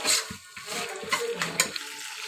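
Water poured into a pan of lightly sautéed pasta for spicy macaroni gives a brief splashing, sizzling wash of sound with a few clinks, close and moderately loud.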